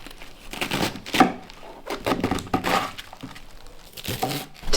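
A knife finely slicing peeled, washed sweetheart cabbage, giving a series of crisp, crunchy cuts at an uneven rhythm, close and fairly loud with no talk.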